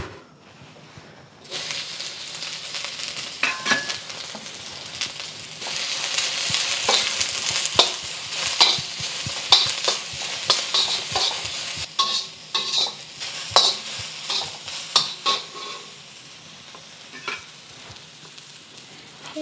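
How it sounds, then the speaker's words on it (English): Shallots fry in a tablespoon of cooking oil in a wok over medium heat, a continuous crackling sizzle with repeated scraping stirs and spatula taps, close and fairly loud, no talking. "Adding a tablespoon of cooking oil and adding my shallots."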